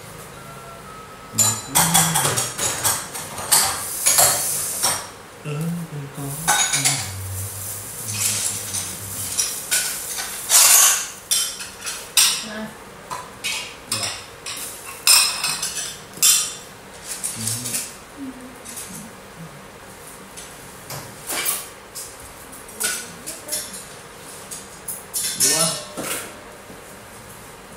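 Plates and cutlery clink and knock as dishes are set down while rice is prepared for a meal, with scattered sharp clatters spread over half a minute under ongoing conversation.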